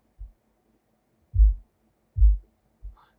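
Four deep, thudding low-EQ'd ghost kick drum hits sound alone with silence between them: a short one, two longer booming ones, then a short one.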